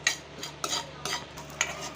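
A spoon stirs tempering spices, urad dal, cumin, chana dal, dried red chilli and asafoetida, in a pan for semiya pulihora: four or five quiet scraping strokes at a steady rhythm over a faint sizzle, with no voices.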